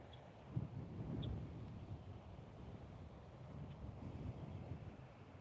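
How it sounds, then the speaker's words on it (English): Wind blows across an open golf course, making a low, steady rumble of buffeting against the microphone, with faint gusty swells and no talking. "I got a lot of wind to work with today. Wind is coming up."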